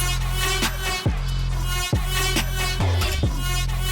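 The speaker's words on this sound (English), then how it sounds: "My bass is sidechain to the trap kick," A steady, heavy bass drone sidechained to a punchy trap kick in a Jersey club beat, dipping and pumping each time the kick hits, giving a rhythmic ducking pulse, loud and upfront.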